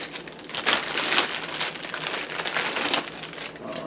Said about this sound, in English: A lens cleaning cloth and a scope all wrapped up in a plastic bag. Let's bring this bag off of here.